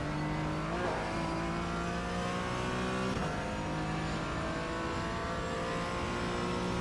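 A Porsche 718 Cayman GT4 in the iRacing game accelerates around Imola, its engine note climbing steadily through the gears with two brief dips at upshifts, loud and continuous with no talk.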